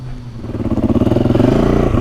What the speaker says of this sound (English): Just warm this bike up and get going.